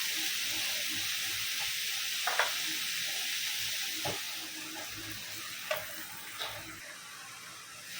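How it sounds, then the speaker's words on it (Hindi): Drumsticks roast in a covered pan over a low gas flame, giving a steady, soft hiss and sizzle with a few faint clicks and taps scattered through it and no voices. "बारीक गैस पे ढक्का रखें, ढकेंगे तो ये ज़रा अच्छे से भून के हो जाएगा।"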